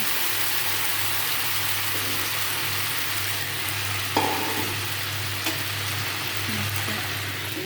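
Cumin is rubbed and stirred with a spoon into a sizzling pan of green banana curry, giving a constant close frying hiss with a low hum underneath and a few faint clinks of the spoon.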